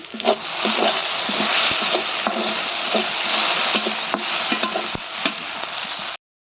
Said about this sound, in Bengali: এদের ভেন্ডি ভাজি করতেছি